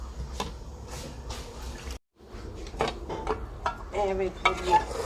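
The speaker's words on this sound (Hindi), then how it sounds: "चमचा अच्छी तरह हिला देते हैं, इसमें मिक्स कर लेते हैं" A spoon stirs a potato and eggplant curry in a pot, with repeated wet scraping strokes over a soft sizzle, a brief dropout midway, then more stirring and squishing close by.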